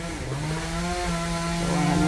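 A chainsaw engine runs steadily at a low idle-like drone, close and continuous for a couple of seconds with no talk over it.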